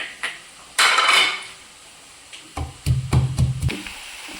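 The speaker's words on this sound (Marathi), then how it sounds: "आलं लसूण आपल्याला थोडं खलबत्त्यामध्ये कुटून घ्यायचं आहे।" Ginger and garlic pounded in a mortar and pestle: a single loud scrape-and-crush burst, then a run of about six quick, thudding pestle strikes close by, with no voices.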